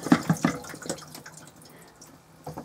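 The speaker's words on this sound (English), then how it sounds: "to flush the toilet you just pump this like this and it squirts clean the fluid around" Pink cleaning fluid squirted by the hand pump of a toilet in a 2004 Elddis Avante five-berth caravan: three quick close wet squirts at the start, a faint watery trickle, then one more squirt near the end.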